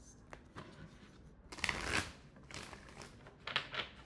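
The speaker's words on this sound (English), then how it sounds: "Let me shuffle at least." Playing cards are shuffled close by in a quiet room, with a few soft riffles and two louder riffle-and-bridge bursts; no speech.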